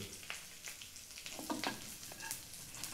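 Minced chicken with turmeric and curry leaves sizzles in a pan for chicken soup, with a soft, steady crackle and scattered stirring scrapes, faint and close.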